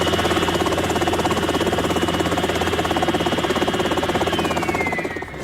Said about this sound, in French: Ce modèle unique d'hélicoptère dernier cri est tout à fait exceptionnel.